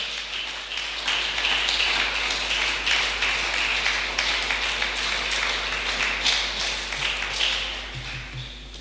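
A church congregation claps for Jesus Christ during a Spanish-language service, a dense, steady stream of applause at moderate distance that continues throughout and eases slightly near the end.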